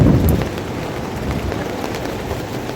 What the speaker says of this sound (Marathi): म्हणजे पावसाचंच ॲटमॉस्फिअर चालू हे झालं आहे पूर्ण.